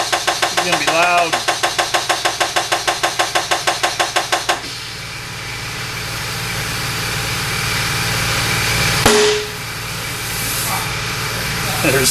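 A tire bead pops while a tire is forced onto a wheel, one sharp loud burst cutting through steady machine whir after a stretch of rapid rhythmic mechanical knocking.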